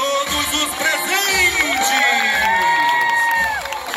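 Spectators at a military school parade for Brazil's Independence Week cheer and shout over a continuous crowd roar, with high-pitched whoops and children's voices rising and sliding, and a rhythmic low thumping underneath, like marching steps or drums.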